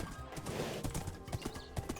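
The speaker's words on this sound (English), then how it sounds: "we finally tamed, saddled, and armored up a new horse" Horse hooves clip-clop in Minecraft in a quick, uneven run of close, moderately loud steps, with faint whinny-like tones mixed in and no speech.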